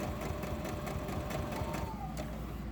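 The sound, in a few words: sewing machine sewing scrappy fabric blocks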